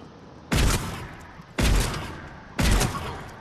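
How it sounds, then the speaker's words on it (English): Three heavy shotgun blasts from Mass Effect 3 multiplayer, each a loud booming crack with a short decaying tail, spaced about a second apart over steady game ambience. "you can see the shotguns are pretty damn good in this game"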